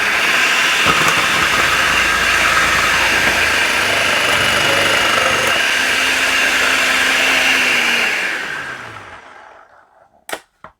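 A Miyako food processor chops two potatoes with a loud, steady motor whir lasting about eight seconds, then spins down to silence before a couple of sharp knocks.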